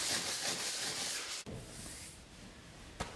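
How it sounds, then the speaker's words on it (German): A soft wire brush scrubbing sticky glue residue off rough plaster in an old house living room, a steady dense rasping that breaks off briefly, resumes, and ends with a short sharp knock. "Es klingt, als würden wir schleifen, tun wir aber nicht. Wir nehmen eine weiche Drahtbürste."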